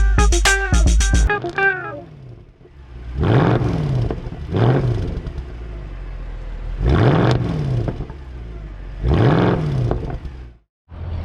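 A 2021 Mercedes-AMG A45 S, the current shape of the car, revs hard several times. Sharp crackles come first, then deep rising and falling revs from the exhaust with short gaps between them, loud and close, with no talking.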